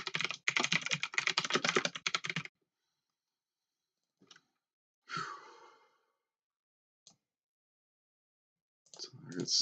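Quick, close computer-keyboard typing rattles for about two seconds, followed by silence, a few isolated clicks, a sigh-like breath and one more short burst of keys.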